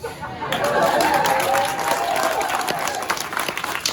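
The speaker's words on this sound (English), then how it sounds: "some completely fake and totally unearned applause" Outdoor audience at a Renaissance festival comedy and juggling show breaks into sustained applause with scattered cheers and chatter, loud and steady after a brief quieter start.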